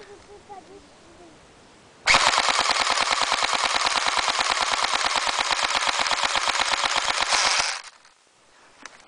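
A rapid, loud burst of full-auto fire from an airsoft M14 rifle that has run out of BBs, a steady mechanical rattle lasting about five and a half seconds before cutting off, with quiet before and after.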